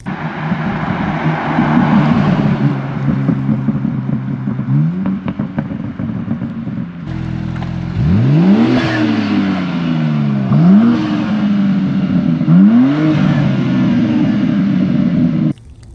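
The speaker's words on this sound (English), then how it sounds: "stock exhaust really sounds decent on this" A 2024 BMW M3 Competition's stock exhaust roars through several rising accelerations, each climb in revs followed by a drop before the next pull.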